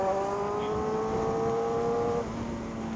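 A motorcycle passes on a sandy mountain downhill road, and its engine hums in a steady, sustained tone. The tone drops away near the end over the wind noise of a riding group.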